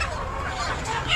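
Hens on a troubled Bangladeshi poultry farm cluck in a dense, continuous flock chorus, close and steady throughout.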